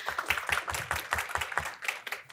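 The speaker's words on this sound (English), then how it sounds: "So, round of applause for John." Audience applause for a speaker at a people analytics conference debate, a steady patter of many hands clapping at moderate level with no voices over it.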